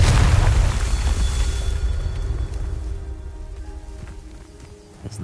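A Confringo fire spell explodes in Hogwarts Legacy with a loud, deep boom at the start, then a long rumbling decay that fades over several seconds.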